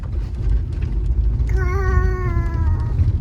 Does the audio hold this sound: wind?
no